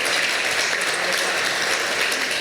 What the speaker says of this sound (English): How about a round of applause for all of our sponsors?